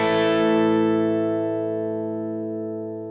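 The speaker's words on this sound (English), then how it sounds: "So without the compressor, it sounds like this." Single electric guitar chord rung out without a compressor pedal, struck once and left to decay smoothly over a few seconds, clean and close, with no talk.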